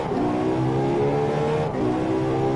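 Race car engine in the Driveclub racing game roaring steadily as it accelerates, a loud sustained rev with climbing harmonic tones and a brief dip near the end, no talk.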